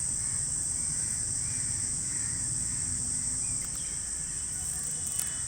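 A steady, high-pitched cricket trill drones continuously at dusk in a garden, with faint distant bird calls and soft background noise underneath.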